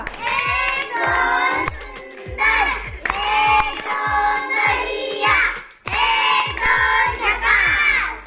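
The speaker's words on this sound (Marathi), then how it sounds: "शिवराजसाठी जोरदार टाळ्या वाजवा" A group claps for a child who has just solved a matchstick equation puzzle, bursts of loud, close clapping mixed with excited children's voices and chatter, broken by short pauses.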